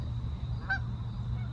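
One Canada goose honk rings out once at moderate distance in a downtown park at night, a short nasal call over a low steady rumble of background noise.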